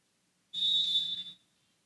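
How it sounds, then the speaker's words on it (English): A referee's single short blast on a whistle before a volleyball serve in a college match, a shrill, steady tone lasting under a second, heard clearly and close, no talking. "gets the whistle"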